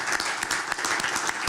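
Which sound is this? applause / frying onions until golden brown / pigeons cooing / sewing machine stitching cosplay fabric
applause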